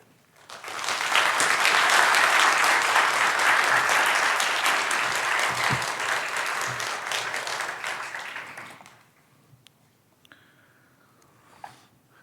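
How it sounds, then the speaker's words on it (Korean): A church congregation applauds a pastor's entrance at a 22nd-anniversary revival service, the dense, loud clapping swelling quickly and running steadily for about eight seconds before fading into quiet room noise. "이 시간 우리 목사님 나오실 때 우리 큰 박수로 모시겠습니다."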